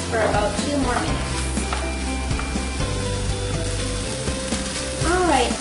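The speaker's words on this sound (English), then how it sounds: "we're just going to add in our carrots, and then we're going to saute these for about 2 more minutes" Onions and carrots saute in a pan with a steady close sizzle and occasional stirring clatter, while someone talks briefly at the start and again at the end.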